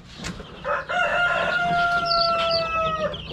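Young Dekalb Brown chickens hatched in an incubator give high, drawn-out peeping calls close by, several overlapping cheeps repeating over a few seconds with some faint clucking underneath.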